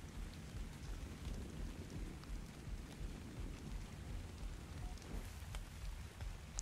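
Steady rainfall in the video game Ark: Survival Evolved, Scorched Earth map, a dense continuous hiss of drops on the ground that holds at an even level throughout, with no voices over it.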